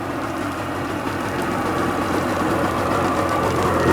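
A rebuilt Sea-Doo XP 720 jet ski two-stroke engine idles on a stand with the pump disconnected, a steady close, even rumble holding constant throughout with no voices.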